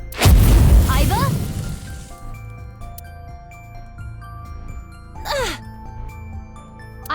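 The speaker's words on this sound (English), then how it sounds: "What was that explosion?" Loud booming explosion in the video game AI: The Somnium Files - nirvanA Initiative, a heavy burst that rings out into a shimmering tinkling tail over a low drone, with a second swelling whoosh later.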